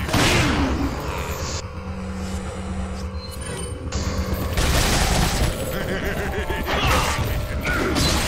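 In the video game Resident Evil 4, a shotgun fires repeatedly at a padlock, producing loud, heavy blasts and mechanical clanks in dense game sound, with some voices mixed in.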